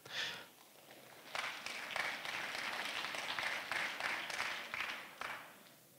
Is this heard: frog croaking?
no